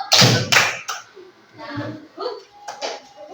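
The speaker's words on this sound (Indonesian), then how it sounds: "Tepuk satu." A single sharp clap rings out early in a classroom, followed by a second quick clap, with a teacher's voice talking afterward.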